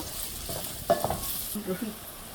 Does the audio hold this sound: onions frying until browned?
yes